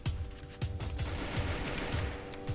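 Rapid bursts of automatic gunfire from the Free Fire mobile battle royale game, shots cracking in a quick steady rhythm, close and loud throughout the short stretch.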